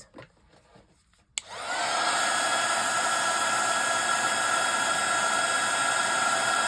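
A heat embossing tool blows hot air over gold embossing powder on stamped or stenciled artwork, switching on after a quiet moment with a click and then holding a loud, steady whirring hiss to the end.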